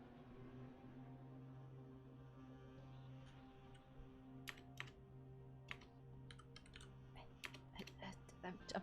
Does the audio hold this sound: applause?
no